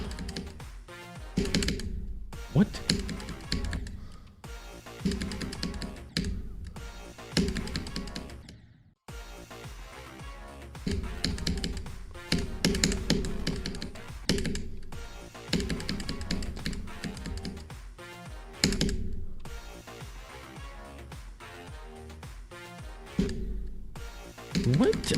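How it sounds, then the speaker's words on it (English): Rapid keyboard or mouse clicking while playing a hard Geometry Dash level, fast irregular tapping bursts with brief pauses over game music, with a voice speaking at times. "I am literally clicking."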